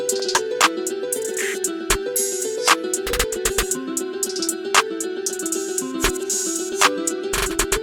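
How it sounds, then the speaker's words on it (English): Layered open hi-hat samples in an FL Studio trap beat hiss out in a steady, busy rhythm over a synth melody. They sound close and bright, with no voices. "I added what's probably way too many open hats"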